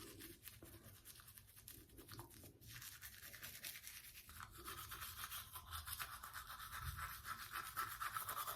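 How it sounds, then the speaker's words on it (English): Toothbrush bristles scrub teeth in quick, steady back-and-forth strokes, close to the mouth and faint, with no talking over the brushing. "And now I'm going to brush on my teeth."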